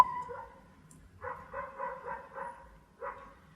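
A dog barks repeatedly at a distance, a quick run of muffled barks followed by one more after a short gap.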